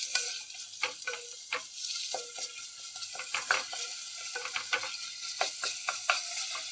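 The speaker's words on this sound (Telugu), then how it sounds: "ఇప్పుడు దీంట్లో మనం అల్లం వెల్లుల్లి వేసుకొని కొంచెం అల్లం వెల్లుల్లి పచ్చివాసన పోయే వరకు కొంచెం ఫ్రై చేసుకుందామండి" Ginger and garlic fry in a pan for a mushroom curry. There is a steady, close sizzle, broken by frequent sharp scrapes and clicks as a spoon stirs against the pan.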